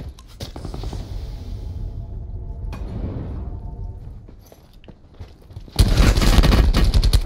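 Gunfire in Call of Duty Blackout, scattered shots and rumbling combat noise that build into a loud, sustained burst of close automatic fire near the end.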